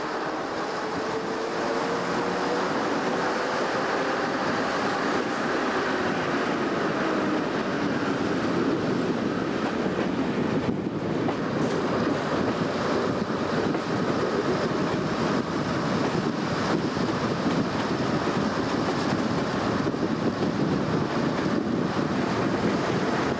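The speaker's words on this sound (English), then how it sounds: "Hope you noticed the sound of the gear changes on these lovely little DMUs." A small British Rail diesel multiple unit running on a 1991 line, giving a steady loud roar of engine and wheels with wind buffeting throughout and shifts in tone where gears change, continuous and close, with no voices.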